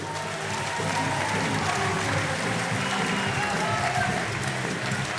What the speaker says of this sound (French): Vous pouvez applaudir encore la Russie